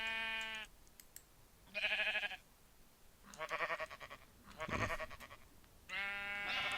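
A handful of Minecraft sheep bleat in a modded Minecraft sheep farm, several separate nasal bleats spaced a second or so apart, fairly loud and close, with light clicking behind them.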